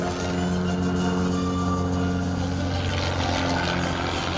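A Christen Eagle aerobatic biplane flies in climbing knife-edge formation at the Props and Pistons Festival airshow, its propeller engine a loud, steady, harmonic drone throughout.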